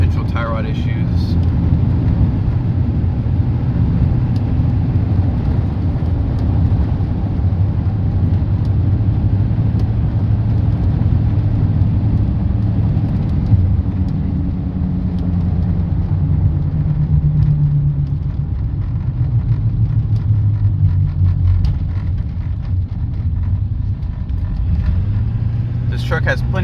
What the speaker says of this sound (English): This truck has plenty of acceleration for highway driving and getting out in front of people.